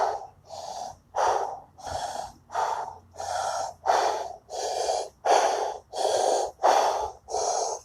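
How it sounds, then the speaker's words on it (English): Heavy rhythmic breathing into cupped hands after a kettlebell workout, with about a dozen loud, even, hollow breaths in steady succession, close to the microphone. "Breathe in your hands for about 30 seconds."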